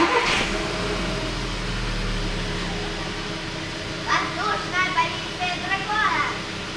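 A Volkswagen Beetle with a 1.4 engine idles steadily after a restart, a low continuous mechanical hum close by, with a few brief higher clicks and chirps near the end.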